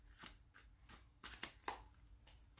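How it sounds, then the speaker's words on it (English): Tarot cards are shuffled by hand in soft, quiet riffling bursts with brief slaps, close up and alone, with no voices. "I'm going to shuffle the cards until I feel the energy it's proper for me to start the reading"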